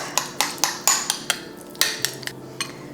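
A utensil clinks against a bowl as oil-free hummus is stirred into food, sharp irregular taps about a dozen times over a few seconds, close and clear with no talk.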